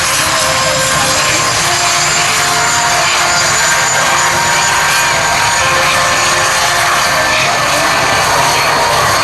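Red Arrows jet aircraft running their engines at an air show as they prepare to take the runway, a loud, steady broadband roar that fills the clip without a break.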